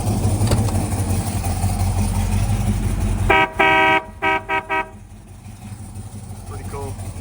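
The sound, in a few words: marine horn on a 1979 Jeep J20 truck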